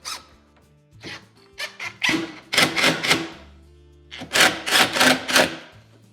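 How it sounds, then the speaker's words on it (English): An impact driver snugs screws into an RTA sink base or range base cabinet false drawer front, its clutch slipping in rapid rattling bursts that come in clusters separated by brief pauses, close and loud. "That noise you're hearing is just the impact driver clutch"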